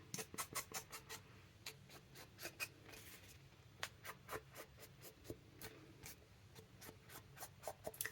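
An ink pad is dabbed and swiped along paper edges, making quick, faint, close scratchy taps and rubs in an irregular patter over a quiet background.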